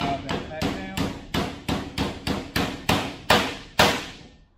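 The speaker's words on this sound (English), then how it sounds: "Now I have a socket, it's 1 5/16, it fits over that perfectly. Now I can drive that back down." A hammer strikes a 1 5/16 socket to drive a tone ring back down on a Can-Am SmartLok differential, giving about ten sharp metallic blows in a steady rhythm, each ringing briefly and growing slightly louder.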